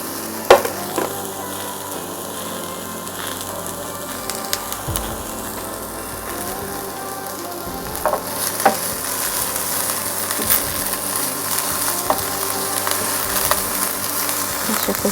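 Onion frying and being stirred in a little oil in a Saladmaster pan, a steady close sizzle with scraping utensil clicks throughout, no talking.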